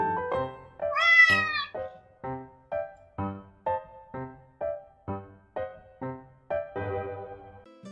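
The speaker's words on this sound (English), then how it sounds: "Lucky, the like and comment kitty, would like to ask a question" A cat meows in a long rising cry followed by a steady series of about ten short, evenly spaced meows, close and clear with no talk over it.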